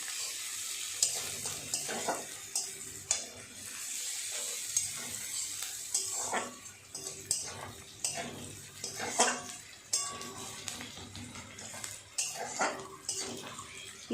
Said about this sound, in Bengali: পেঁয়াজটা সুন্দর করে লাল লাল করে ভাজা করে নেবে